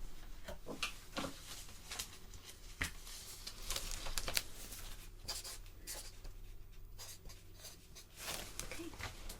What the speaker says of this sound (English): I just need to write it down on my notes.